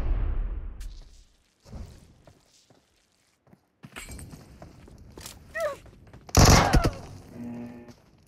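Scattered gunshots and footsteps in PUBG Mobile, with a few sharp cracks and a louder burst of fire near the end between quieter movement sounds.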